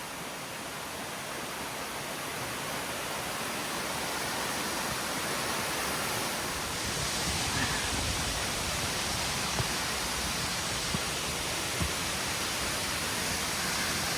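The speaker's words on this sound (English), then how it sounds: "That's cascading Beaver Brook." Beaver Brook cascading down a steep mountain trail on Mt. Moosilauke, a steady broadband rush of falling water that fills the scene evenly throughout, with no voices.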